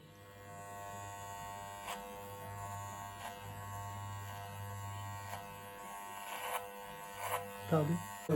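Electric hair clippers fitted with a number 3 guard buzz steadily through a child's home haircut, a constant low hum with a few brief clicks and handling sounds near the end.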